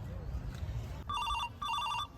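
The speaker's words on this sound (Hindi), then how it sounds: "कहलूँ फोन बाज रहा है यहाँ के" A telephone rings in two short electronic trilling bursts, close, over a murmur of room noise and faint voices.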